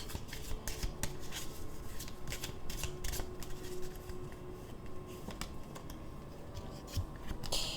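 Sacred geometry oracle cards shuffled steadily by hand, a continuous close papery flicking and rustling with fast irregular snaps throughout, no talking over it.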